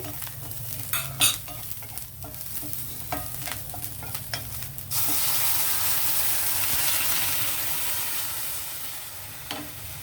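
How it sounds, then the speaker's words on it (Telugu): Milk goes into a hot pan of onion, green chili and coriander for creamy pasta: light stirring clatter first, then a sudden loud, steady hissing sizzle as the liquid hits the pan. "అయితే ఇందులో మనం ఇప్పుడు పాలు వేస్తామండి"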